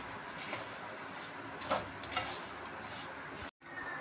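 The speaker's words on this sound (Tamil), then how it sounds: "பொடி பண்ண டாலை போட்டு நல்லா அதோட மிக்ஸ் பண்ணணும்" Powdered dal stirred into a pan with turmeric and asafoetida, a soft scraping and gentle sizzle close by, with a few light clinks of the spoon against the pan.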